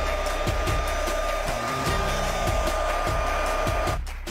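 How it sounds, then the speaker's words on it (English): A blower drying fresh paint in a garden she-shed runs as a loud, steady whir throughout, with faint thumps underneath, then cuts off abruptly near the end. "Right, time to put the blower down and decorate."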